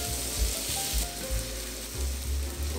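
Salmon fillet sizzling in a pan over medium heat, a steady close crackle of frying with soft clicks and scrapes as the fish is turned and nudged.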